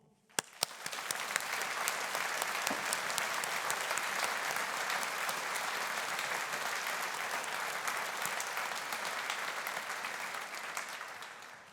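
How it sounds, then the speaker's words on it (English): A large graduation-ceremony audience of friends, families and academic staff breaks into sustained applause, a few first claps swelling quickly into a dense, even wash of clapping that holds for about ten seconds before tapering off. "which surely deserve a collective round of admiring applause from those friends and families and academic staff who are celebrating here with you this afternoon"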